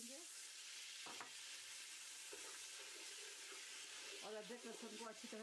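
Ginger, garlic, chicken and vegetables for a dum biryani sizzle and fry in a pan, a steady hiss with occasional stirring clatter, a faint voice underneath near the end.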